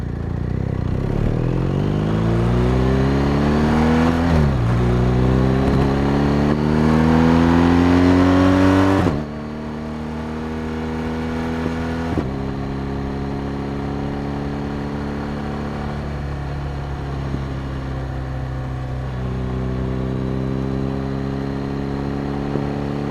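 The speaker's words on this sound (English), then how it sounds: "let the audio recorder lay down some of the engine sound" A BMW R 1250 RS motorcycle engine hums and revs up through gears while riding on the road, with pitch rising and dropping at shifts, steady and close, no talking.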